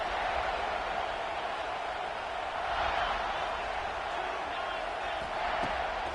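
Stadium crowd in the College Football 26 video game keeps up a dense, steady roar with swells of cheering, broadcast-style and moderately loud throughout, a voice faintly mixed in.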